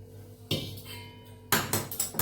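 Spoon clattering against a vessel while mixing flour with hot ghee and milk for winter adadiya, a few loud scraping knocks after a quiet pause, then a burst of several rapid clinks close up.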